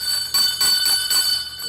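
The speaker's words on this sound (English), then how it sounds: "Bell, ring the bell." A bell rings for a correct answer in a quiz, with about three bright, metallic strikes in quick succession and a lingering ring, loud and close.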